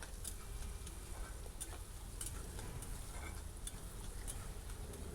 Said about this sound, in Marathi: कांदा लवकर भाजला जावा म्हणून यामध्ये मी थोडंसं मीठ ॲड करणार आहे.